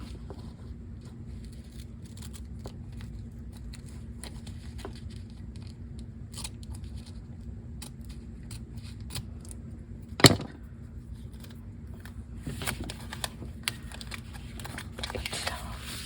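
Scissors cut paper while a journal page topper is being made, a series of faint, quick snips ending in one sharp close cut, with a low hum underneath.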